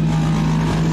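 A steady engine drone with a constant low hum, running evenly throughout at a loud, close level.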